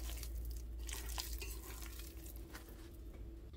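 Egg yolk is worked into a soft mashed potato croquette mixture, giving quiet, close, continuous mixing and squelching with light scraping.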